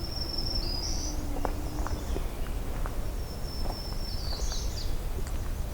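High, buzzy black-throated green warbler song phrases repeat twice over a constant insect drone on an overcast morning, with scattered faint chirps from other birds in the distance.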